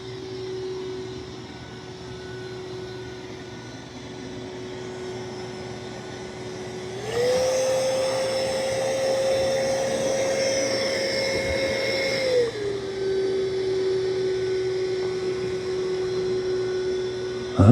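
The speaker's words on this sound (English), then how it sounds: "Still doing a good job of vacuuming." A MOVA Z60 Roller vacuum cleaner runs with a steady whine and airy roar; midway its pitch and loudness step up as suction ramps higher, holding for several seconds before dropping back to the lower, steady drone.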